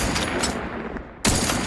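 Gunfire in the video game The Outer Worlds 2: dense, loud bursts of shots with a brief lull before another sharp volley at the end.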